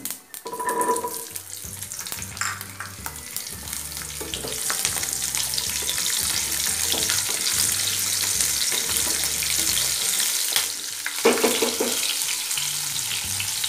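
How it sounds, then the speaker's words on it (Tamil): Mustard seeds, urad dal, cumin and small shallots hit hot oil for a moong dal sambar tempering, crackling and sizzling loudly and continuously with a few spattering pops and stirring noises. "இப்போது கடுகு உளுத்தம் பருப்பு கொஞ்சம், கொஞ்சமாக சீரகம், அடுத்ததாக சின்ன வெங்காயம்"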